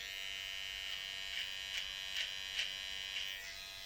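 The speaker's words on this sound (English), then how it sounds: "All I'm going to do now is take my trimmer, which is a little finer cut, and I'm going to find my lip line." A beard trimmer trimming along the lip line gives a steady, close electric buzz, with several brief louder surges as the blades pass through the hair.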